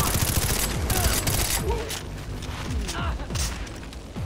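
Continuous heavy automatic gunfire in the Far Cry 3 finale, loud and close, with rapid overlapping shots and mechanical clatter running unbroken for several seconds.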